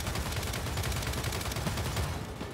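Sustained, dense gunfire from Gears 5 video game combat, a continuous rapid barrage of shots at steady loudness with no talking.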